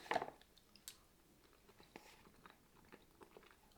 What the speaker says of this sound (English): Some of them are actually crunching.